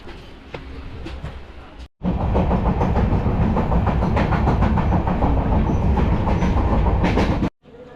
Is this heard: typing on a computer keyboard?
no